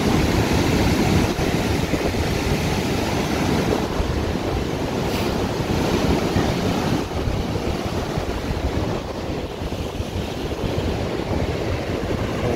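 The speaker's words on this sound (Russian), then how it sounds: "Вот такое половодье у нас" Spring floodwater on the Shertanga river rushes in a loud, steady roar through the whole stretch, with no break and with wind buffeting the microphone.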